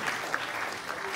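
A conference audience claps steadily in a brief, dense wash of applause, moderately loud and sustained throughout, with a voice faintly underneath.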